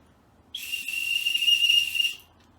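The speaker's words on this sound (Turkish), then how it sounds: "Düdüğümü öttürüyorum son kez ve sizlere veda ediyorum." A single sustained whistle blast, loud and close, a steady shrill tone held for about a second and a half before cutting off, with no voices around it.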